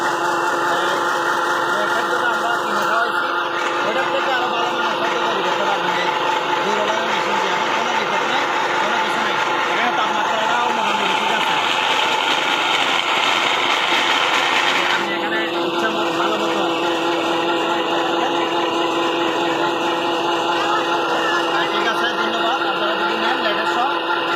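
Poultry and cattle feed making machine running with a steady, loud mechanical drone and hum that holds continuously throughout, with a slight shift in tone midway; someone speaks over the noise.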